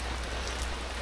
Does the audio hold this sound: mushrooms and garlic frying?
no